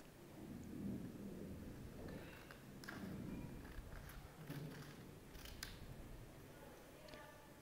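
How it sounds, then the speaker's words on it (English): Scissors snip through folded paper to trim excess for a snowflake craft, giving soft, close crunching cuts in several short bursts with small pauses between them. "We use the scissor to cut this excess."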